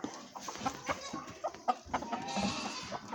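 Chickens cluck on a farm in short, uneven calls, fairly close and moderately loud, over a low background hum.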